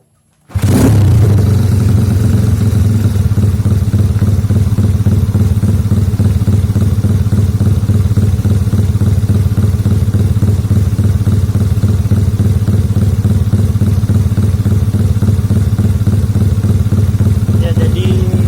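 A Yamaha Mio fuel-injected automatic scooter engine starts after a brief silence and settles into a steady, loud, close idle with a rhythmic, even pulse that continues throughout.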